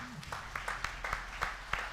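A few hands clap in a slow, steady rhythm during a morning church worship service, sparse and quiet, with a low tone fading at the start.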